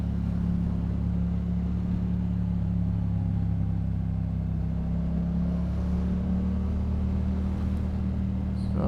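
A Yamaha MT-07 motorcycle's engine drones steadily and fairly loud as the rider lane splits through commuter traffic, with constant low rumble and wind noise and no clear revving changes.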